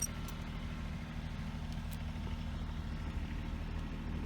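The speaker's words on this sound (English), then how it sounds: "Stand by while the tractor goes by." A tractor drives past in a grape vineyard during vine pruning, giving a steady low engine rumble that stays moderately close and constant throughout, with no talking.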